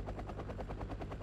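A Mi-9 helicopter in the video game Wargame: AirLand Battle drones with a continuous rapid rotor chop, a steady throbbing beat heard close and alone.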